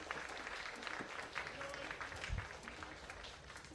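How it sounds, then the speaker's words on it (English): Steady applause from a crowd at a StarCraft ASL esports tournament, fairly distant and soft, with a faint voice underneath. "let's give him a round of applause"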